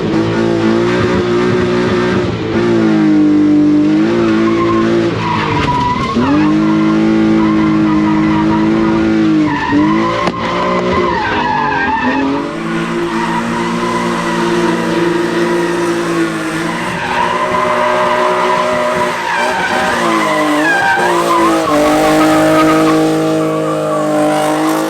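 A cheap, rusty BMW E36 drift car roars at high revs with long, loud tire squeal, sliding continuously through a drift run, engine pitch rising and falling with throttle and shifts, close and without speech.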